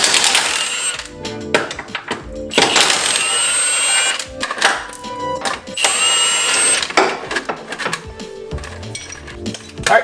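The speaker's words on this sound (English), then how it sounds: "the easiest way to remove that and the control arm is simply to undo these two bolts right here. So I'm going to use the big wrench for that" Big wrench or ratchet undoing control arm bolts on a 2000 BMW Z3 suspension, giving close, irregular metallic clicks and clanks with scraping in between, loud and uneven in rhythm.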